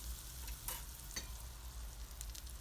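About one and a half tablespoons of butter melting in a separate pan for a Turkish yogurt soup, a faint, even sizzle with a couple of soft clicks and no voices.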